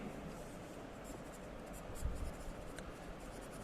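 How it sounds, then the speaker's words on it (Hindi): Steady scratching of handwriting during a lecture on agricultural revolutions, a continuous soft rasp with one slightly louder stroke partway through, close and alone with no voices. "वो मैं नाम यहाँ पे लिख देता हूँ"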